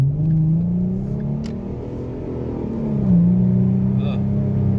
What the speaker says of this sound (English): here we'll do part throttle, but it's going to be a more aggressive acceleration